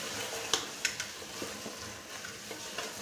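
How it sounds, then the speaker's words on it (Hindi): Moringa (sohanjna) is stir-fried in a pan. A soft, steady sizzle plays beneath occasional sharp taps and scrapes of a spoon against the pan, quiet and close. "अब हम इसको अच्छी तरह से भून लेंगे"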